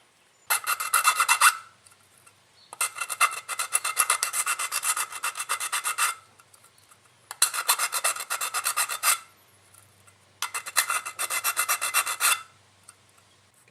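Metal rasping as holes drilled in an aluminium cat food can are filed smooth for an ultralight alcohol stove, four close bursts of steady scraping strokes separated by short pauses.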